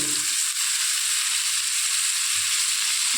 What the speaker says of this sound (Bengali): এবার এর মধ্যে দেখুন আমি চিংড়ি মাছটাকে দিয়ে